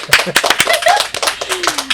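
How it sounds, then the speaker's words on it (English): A small group claps briefly at a community event, the scattered claps close and loud, mixed with talking and some laughter. "Round of applause."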